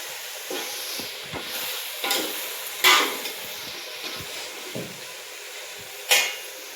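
Cumin tempering sizzles in hot oil for a chicken sambar, a soft continuous frying hiss broken by several sharp clinks of a utensil against the pan.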